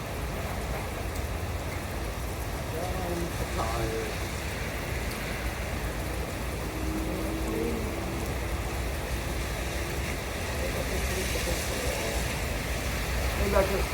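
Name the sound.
heavy rain falling on the street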